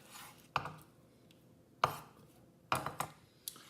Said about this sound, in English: The next step to this is you want to cut the steak